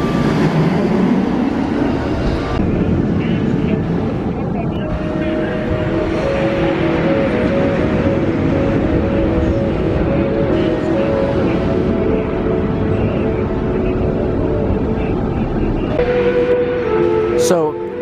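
The Velocicoaster roller coaster at Universal Studios runs its trains in a sustained mechanical rumble with rising and falling tonal whines from wheels and track. The sound swells and fades over many seconds, with a voice talking over it at times.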